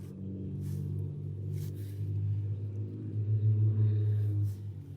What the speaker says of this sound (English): I promised myself I was not going to comment on loud cars anymore.